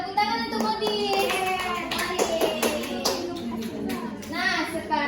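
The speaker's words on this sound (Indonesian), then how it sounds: "tepuk tangan untuk Modis" Primary-school children in a classroom clap for a classmate in quick, rhythmic bursts, their voices chanting along over the hand claps throughout.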